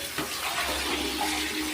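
Water pours steadily into a bath for a pet pig, a continuous close splashing rush with no breaks.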